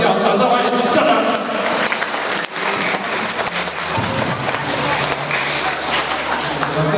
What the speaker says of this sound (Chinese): 掌声欢迎我们校长